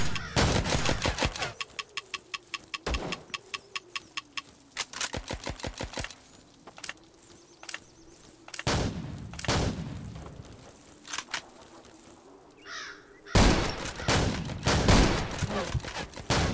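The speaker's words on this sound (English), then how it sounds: "Well, that guy was shooting." Bursts of video game gunfire from Zero Sievert on its hardest difficulty: rapid machine-gun volleys and fusillades of sharp shots, broken by quieter stretches with a faint hum, then dense loud firing returning at the end.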